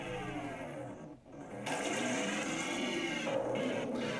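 Splashing, rushing water as a car falls into water in a racing video game, a steady watery wash that dips briefly then swells back loud and continuous.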